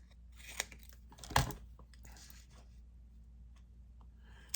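A sheet of craft paper being cut out, giving one short, close crisp snip-and-tear burst amid faint rustling and small handling ticks, with no talk.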